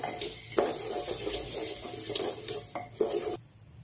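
Broken wheat stirred together with the other ingredients in a pan for jaggery lapsi, a steady close scraping and rustling with a few sharper knocks of the spoon against the metal, ending abruptly.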